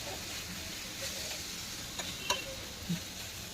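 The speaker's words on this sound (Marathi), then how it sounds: "हे जळू नये म्हणून मी ते परतवलंय." Peanuts being roasted for a chutney are stirred in a pan, giving a faint, steady sizzle with a few soft scrapes and clicks.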